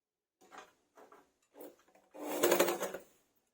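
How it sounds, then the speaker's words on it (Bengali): A sewing machine stitches fabric for a bolster pillow cover in short bursts, a few brief whirring runs followed by a longer, louder stretch of rapid needle clatter in a quiet room. "এটাকে ঠিক এইভাবে রেখে একটা সেলাই দিয়ে দিচ্ছি"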